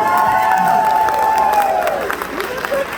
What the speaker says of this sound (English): come on, give me some applause for making it to 40.